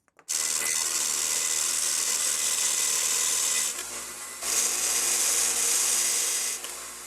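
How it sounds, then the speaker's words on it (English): A spinning drill whirs while sandpaper rubs against a wooden dowel spun in its chuck, a steady gritty hiss with a brief pause partway through. "I'm going to go ahead and chuck this up on my drill"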